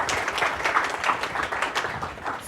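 A brief round of applause from an audience at a poster design session, scattered hands clapping at a moderate distance, fairly soft and steady for a couple of seconds.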